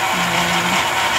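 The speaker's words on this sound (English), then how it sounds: "Okay, so I'm going to be blending" A blender whirs steadily at full speed, pureeing onion, garlic and ginger, a loud continuous grinding roar with no talk over it.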